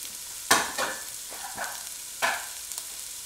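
Onions and garlic hit a hot pan while braising beef cheeks, giving a few scattered stirs and scraping bursts over a soft sizzle, close and moderately loud with no talking.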